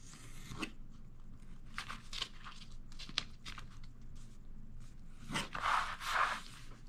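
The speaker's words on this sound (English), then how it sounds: "So I'll go over to that score mark and cut" Scissors cut fabric along a score mark for a lined roll-top bag, giving quiet, close, intermittent snips and crisp rustles with a few louder cuts near the end.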